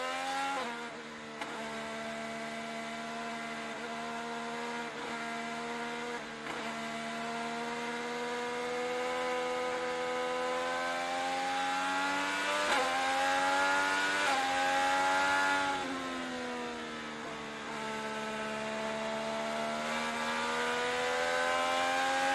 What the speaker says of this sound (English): Have a listen to the throttle application.